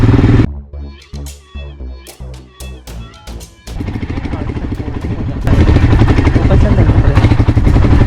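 A motorcycle labours over rough terrain near the Ghora Katora and Sonbhandar caves in Rajgir, first as choppy revving bursts with pauses, then as a loud continuous engine roar, with people talking over it.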